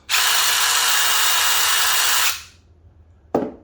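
A Dewalt impact driver runs at its third speed setting in one loud, steady burst of about two seconds, then cuts off, followed by a brief sharp knock.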